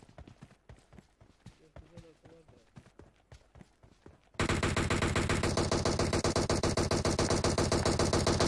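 Gunfire in the PUBG Mobile game on the Livik map: after a quieter stretch of soft movement noises and voices, a loud, dense burst of rapid automatic shots erupts and keeps hammering steadily to the end.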